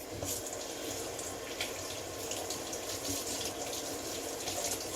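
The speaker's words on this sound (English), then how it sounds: "I'm gonna take it to the sink. I'm gonna rinse much of this fruit off of it" Kitchen sink tap runs water over a mango seed being rinsed, a steady close splashing gush that continues without pause and with no voices.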